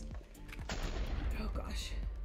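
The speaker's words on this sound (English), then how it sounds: "I don't like the explosion sounds." Explosions in a Minecraft parkour map, a couple of sharp blasts followed by a sustained loud rumbling burst, fairly close and dense.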